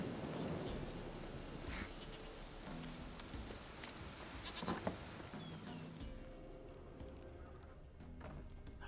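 A goat bleats in The Witcher 3 near a hut in a bog, one wavering cry standing out over steady rain-like ambient noise, moderately distant with no talking.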